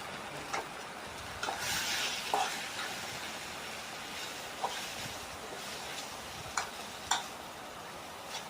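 Moringa leaves with cumin and coconut sizzle softly in a pan, with a steady frying hiss broken by occasional spatula scrapes and taps as the mix is stirred.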